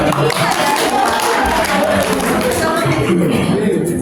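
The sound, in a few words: audience applause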